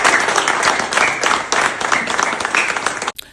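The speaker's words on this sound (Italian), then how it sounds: "Un applauso, un applauso." Applause from a crowd after a tribute in an Italian news broadcast, dense steady clapping that cuts off abruptly at the end.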